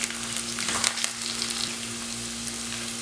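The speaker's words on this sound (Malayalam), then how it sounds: "ഇനി ഇതിനകത്തേക്ക് നമ്മൾ അരിഞ്ഞു വെച്ചിരിക്കുന്ന സവോളയും പച്ചമുളകും കറിവേപ്പില എല്ലാം കൂടിയിട്ട് നന്നായിട്ട് വഴറ്റിയെടുക്കാം" Chopped onion, green chilli and curry leaves sauté in a pan for mushroom masala, giving a steady close sizzle with a few brief stirring scrapes early on and a faint low hum underneath.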